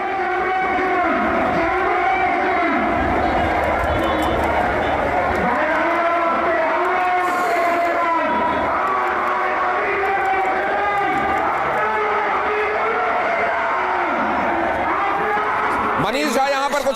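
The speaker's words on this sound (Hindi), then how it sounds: "ये भीड़ देखिए, ये नारे सुनिए, और वहां पर भीड़ के उन्माद को महसूस कीजिए" A dense, loud protest crowd in Dhaka chants anti-India slogans in a continuous, unbroken wall of massed voices.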